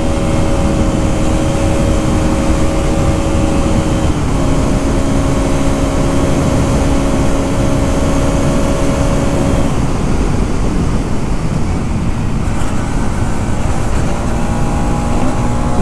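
A Bajaj Pulsar 200NS motorcycle is ridden with the throttle held open at high revs through corners. Its steady engine drone is partly buried under loud, constant wind rush.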